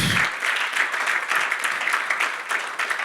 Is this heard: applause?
yes